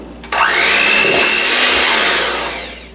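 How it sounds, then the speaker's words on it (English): An electric mixer beats dark brown sugar on medium speed, kicking on with a click and holding a loud, steady whir with a rising motor tone for a few seconds. "We'll beat those on medium speed for about 2 minutes"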